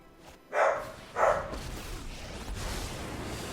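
Two short, muffled barks from a dog somewhat off-microphone, about half a second apart, followed by a low steady room rumble with no talking.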